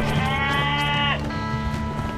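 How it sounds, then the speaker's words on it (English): A cow moos in a theme park video game, a long, low, drawn-out call that bends downward at the end, set over a dense game soundtrack with a steady hum. "A cow."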